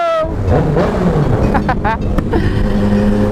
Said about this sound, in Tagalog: galit na galit tong motor na to